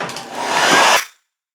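A heat gun blows hot air on the back glass of an LG G7 ThinQ phone, a close, loud, breathy whoosh that holds steady for about a second before cutting off to silence.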